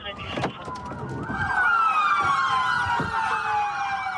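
Several police car sirens wail together close by during a Miami SWAT pursuit, their overlapping pitch sweeps growing louder and holding steady, with vehicle rumble and brief knocks underneath.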